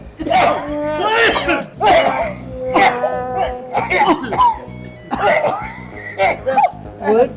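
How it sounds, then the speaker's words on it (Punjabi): A man in a comic doctor-and-patient sketch coughs and clears his throat in repeated harsh bursts between spoken lines, loud and close, with speech running throughout. "ਓਏ ਤੂੰ ਇਹੋ ਜਿਹਾ ਖੰਘਿਆ ਕਿ ਮੈਨੂੰ ਵੀ ਖੰਘੋ ਖੰਘ ਕਰ ਦਿੱਤਾ"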